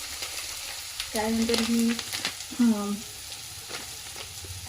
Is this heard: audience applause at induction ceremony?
no